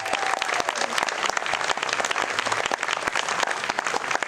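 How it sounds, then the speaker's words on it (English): Audience applause for sponsors at a program event, many hands clapping in a lively, crackling burst with sharp individual claps standing out, steady and fairly close throughout. "Could we have a nice big round of applause for all of our sponsors"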